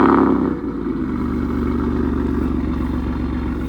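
Running turbocharged 3.7 V6 in a Ford Mustang, heard close and fairly loud as a steady, slightly rough idle with a dip just after the start, and no talk over it.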